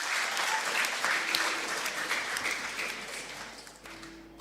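Church congregation applauding Sunday school children at a Simalungun-language worship service, a dense, even patter of many hands that gradually thins and fades toward the end.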